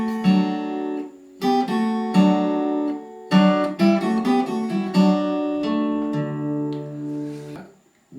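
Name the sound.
acoustic guitar playing intro bars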